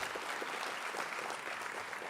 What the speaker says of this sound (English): So give him a very big round of applause.